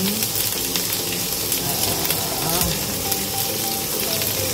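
Hot oil crackles and spits loudly in a wet wok before noodles are fried, a steady dense sizzle close at hand with scattered pops and no talking.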